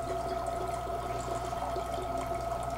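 Wine poured through a wine aerator makes a steady, continuous swirling gurgle of liquid at close range, moderately loud and unbroken for a few seconds with no talk.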